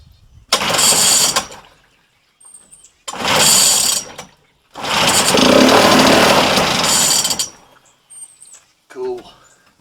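A 1969 Clinton J-9 small engine fires in three loud, close bursts separated by short silences, the last run lasting longest before it dies, followed by a brief voice.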